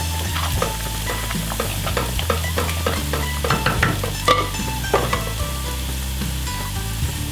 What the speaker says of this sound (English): don't forget to stir the lentils